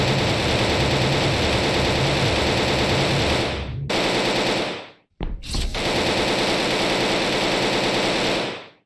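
Dense, loud gunfire from weapons shooting at creatures in a horror video game, a continuous rattling barrage that breaks off briefly around the middle before resuming just as heavily.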